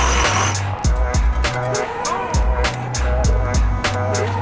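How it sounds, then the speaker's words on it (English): Diesel engine of a newly bought van idling and revving nearby, a steady low rumble with repeated throttle surges rising and falling, heard alongside a loud rhythmic bass thump from a trunk subwoofer. "It's still weird to me to hear diesel coming from these things."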